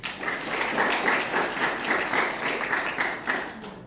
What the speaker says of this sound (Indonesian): Kita berikan tepuk tangan dulu buat Pak Zulfahri.